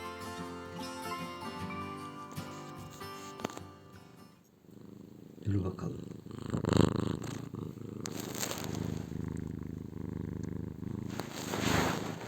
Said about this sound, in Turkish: Hmm, mırlamaya başladım